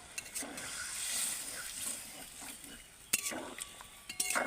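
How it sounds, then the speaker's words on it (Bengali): Water added to a pot of spiced curry for freshly caught koi fish, then stirred, with steady watery rushing, light metal clinks of a utensil against the pot and sharper scraping knocks near the end. "এবার আমি জল দিয়ে দেব জলটা পরিমাণ মতোই দিতে হবে একটু নেড়ে দেব"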